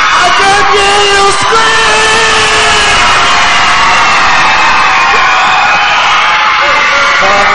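Church congregation screams, whoops and cheers in a loud, sustained roar that fills the whole clip, with shrill voices rising above the crowd.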